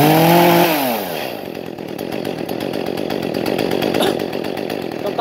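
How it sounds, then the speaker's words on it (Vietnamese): An Echo CS-351 35.2cc chainsaw engine fires up with a brief rising pull at first, then settles into a loud, steady, buzzing idle close to the listener, with no talking. "giờ em sẽ khởi động máy lên cho anh em nghe tiếng máy nhé"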